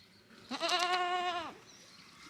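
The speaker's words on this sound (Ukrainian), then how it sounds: "Одними із перших оселилися на цій фермі евакуйовані із часового яру кози." A goat on a farm gives one clear, wavering bleat lasting about a second, close and loud against a quiet background.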